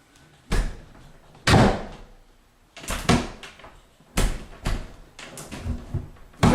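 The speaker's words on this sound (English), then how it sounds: "Let's go ahead and shut the door." A house door with a latch that catches is swung shut repeatedly, producing several loud thuds and knocks in an uneven sequence, close to the listener, with no talking.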